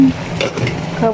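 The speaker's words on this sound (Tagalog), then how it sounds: "Ayan, tatakpan natin again." A metal lid set back onto a pot of ginataang tulingan, tuna simmering in coconut milk, giving a brief clatter and scrape over a low cooking hiss, with a voice speaking faintly.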